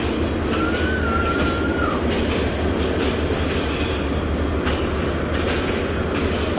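Steady low rumble of a train departing Rajshahi railway station along the rails, with a brief high wheel squeal early on and faint clacking throughout.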